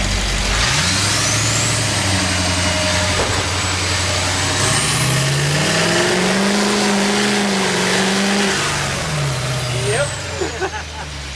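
A car doing rolling burnouts revs hard and holds a loud, roaring engine note that rises and falls, with a high tire squeal running over it and a voice heard briefly near the end.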